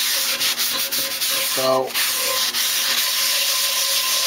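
A cast iron pan is sanded with steady, close, continuous abrasive rubbing strokes, loud and scratchy, while a voice briefly speaks partway through.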